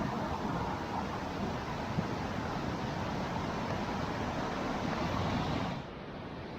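Floodwater rushes down a hillside into a swollen creek after heavy rain on the Sunshine Coast, making a dense, steady roar. It stays loud and continuous, then drops slightly near the end.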